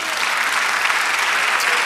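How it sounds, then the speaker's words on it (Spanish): Dense, steady applause from a church congregation fills the space evenly, a continuous wash of many hands clapping together with no voices rising above it. "Otro aplauso, Señor."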